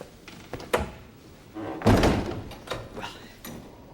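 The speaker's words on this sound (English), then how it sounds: "Close the door, you idiot." A door bangs shut in a royal chamber, a heavy thump in the middle of a few scattered knocks and shuffles, fairly close and loud against a quiet room.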